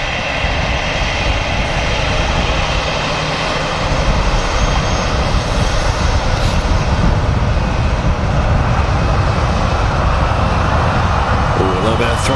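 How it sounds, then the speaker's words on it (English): An Airbus A320 at Manchester Airport roars with jet engine thrust, a loud broadband rumble holding steady throughout and swelling slightly midway. "A little bit of thrust there from the A320."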